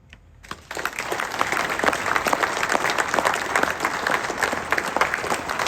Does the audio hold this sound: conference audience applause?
yes